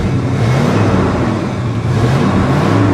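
1966 Ford Country Sedan engine held at high revs, a loud sustained roar with a steady droning tone and no talk.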